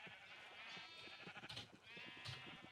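Minecraft sheep bleat in a steady, wavering cry that holds for a few seconds, faint and somewhat distant, with no talk over it.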